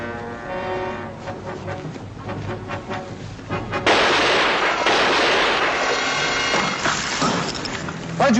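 Gunfire from a WWII-era combat scene in France, with loud bursts and sharp cracks standing out over a dense stretch of battle noise and music; the blasts grow heavier and fill the second half.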